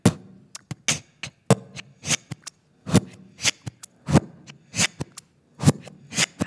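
A vocal beatbox beat played in reverse gives a string of swelling, sucked-in percussive hits. They come at an irregular funky rhythm and are close and punchy, with short gaps between them.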